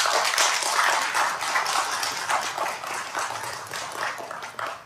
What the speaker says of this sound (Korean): 박수를 좀 부탁드리겠습니다.